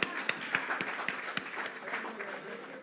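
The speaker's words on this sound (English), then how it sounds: "Let's have another round of applause" Audience applause at the Grenada Union of Teachers annual conference, a steady wash of clapping with a few sharper claps standing out, mixed with murmuring voices throughout.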